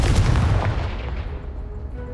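A Confringo spell blast in the Hogwarts Legacy video game lands as a heavy, booming explosion that starts loud and rumbles away over two seconds, with no voices.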